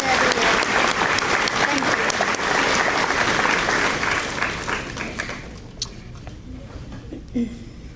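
A school audience at a high school senior awards ceremony claps in sustained applause that gradually fades out, with scattered claps and some voices at the end.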